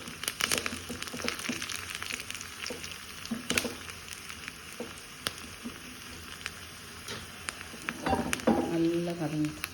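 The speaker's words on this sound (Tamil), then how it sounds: "இதை தாளித்து போட்டணும். இன்னும் ரெட்டிஷ் ப்ரௌனாக ஆகணும்." Spices sizzle and crackle in hot oil as a tempering for a sambar with mango, brinjal and drumstick, with faint steady frying and occasional sharp pops and stirring scrapes; no talking.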